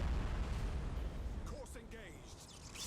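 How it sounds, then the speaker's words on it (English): Torpedo salvo explosions boom in the space battle game Battlefleet Gothic: Armada 2, a dense rumbling burst fading over a few seconds with faint sci-fi effects. "Now one more torpedo salvo for good measure"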